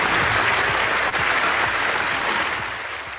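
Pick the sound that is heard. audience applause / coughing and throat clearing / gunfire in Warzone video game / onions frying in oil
audience applause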